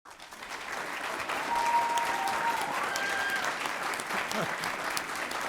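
A round of applause at a formal school board meeting honoring award recipients, dense sustained clapping from a large audience, moderately distant, with faint voices mixed in.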